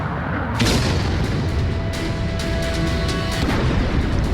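An artillery strike on a Ukrainian howitzer during the Russia-Ukraine conflict comes through as heavy, rumbling booms and blasts, with a sharp loud impact about half a second in followed by further bursts and crackling.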